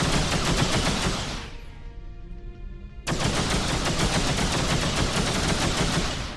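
Weapons fire at a pirate ship in the space game X3: Terran Conflict, loud sustained rapid bursts that break off for about a second and then resume just as dense.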